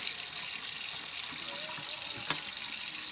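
Tap water runs steadily into a sink while salted pollock fillets are rinsed, a continuous moderate splashing hiss with a brief clink near the end.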